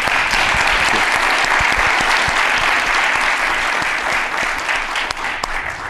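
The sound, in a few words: audience applause for the panelists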